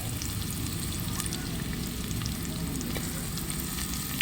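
Onions sauté in a pan for a fish curry, giving off a steady, dense sizzle close up. Light crackles and stirring run through it, and no one speaks.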